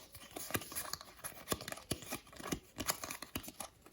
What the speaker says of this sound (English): I will shuffle the A deck now with my lovely shuffling skills